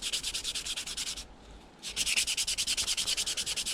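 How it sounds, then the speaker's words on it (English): Hand sanding the undercoat of a 160mm glide bait lure, a steady rhythmic rasp of quick back-and-forth strokes, close and fairly loud, pausing briefly midway before resuming. "I'll give it a bit of a sand, take the shine off the undercoat"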